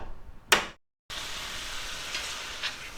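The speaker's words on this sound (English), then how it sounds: "we're going to crack a couple eggs" Eggs sizzle in a pan with minced garlic and seasonings, a steady close frying crackle broken by a sharp clatter and a brief silence before the sizzle resumes.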